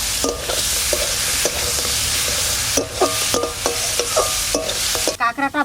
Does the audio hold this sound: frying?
yes